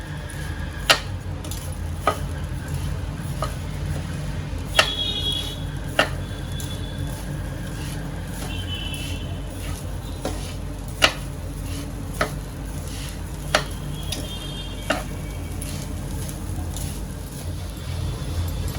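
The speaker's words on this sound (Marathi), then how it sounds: "मी मीडियम टू स्लो गॅसवर जे आहे खोबऱ्याला चांगलं साखरी बरोबर परतून घेतलेलं" Fresh coconut stirred with sugar in a pan over medium to low heat, with a steady low sizzle and sharp spoon taps against the pan at irregular intervals, close and continuous.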